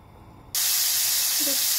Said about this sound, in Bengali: এখন ফ্রাই প্যানে তেল দিয়ে দেব।